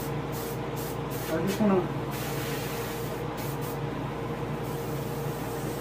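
Paint sprays onto a largemouth bass taxidermy mount in a steady airy hiss that cuts in and out in short bursts, while someone talks over it.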